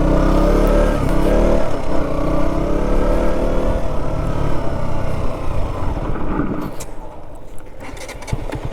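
A KTM Duke 125 motorcycle ridden off-road over gravel, its single-cylinder engine droning loud and close throughout with rising and falling revs, easing slightly toward the end.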